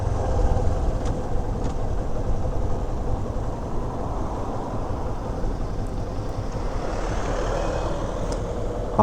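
A motorcycle being ridden on a road in Singapore, a steady engine drone with gear changes and throttle, rumbling continuously at close range under wind noise.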